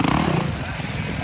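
A dirt bike engine at a Wednesday night motocross practice track in Albany drones close and loud for a brief moment, with a rough, fluttering tone.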